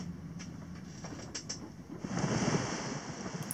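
Wind and waves aboard the sailing yacht Jade Akka at sea, a steady rushing wash of water and wind buffeting that swells louder partway through, with a few faint knocks early on.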